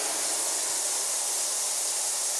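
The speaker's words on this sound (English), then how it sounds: "What you're hearing there is the resonant transducers and the mechanical vibration that's going on." An ultrasonic cleaner tank with its transducers vibrating the bottom at 30,000 cycles per second gives off a steady, loud, even hiss with no variation, heard up close and alone.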